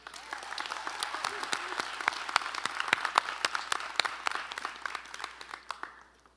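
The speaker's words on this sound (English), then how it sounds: "give a huge round of applause to ourselves for reaching such a huge milestone" A graduating class at a high school graduation ceremony claps in a round of applause. It begins with sharp, distinct claps, grows into a dense crowd sound, then thins and fades out near the end.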